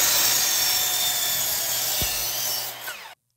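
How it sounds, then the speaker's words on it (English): A saw cuts through 2x6 wood blocking for garage ceiling joist framing, giving one steady, loud, close cutting roar that lasts about three seconds and then stops abruptly, with no talking. "Now I'm cutting 2x6 blocking to place in between each joist."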